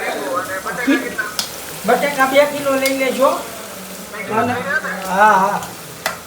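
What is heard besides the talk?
tempering spices sizzling in hot oil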